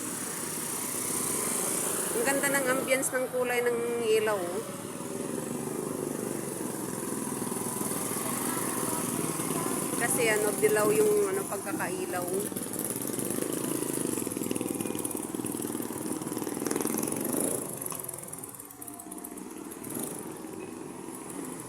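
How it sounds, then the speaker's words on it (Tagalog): Many motorcycles pass along a busy street at dusk as people head home, their engines forming a steady mid-level drone with a couple of closer passes, under continuous talk. "ang dami ng motor"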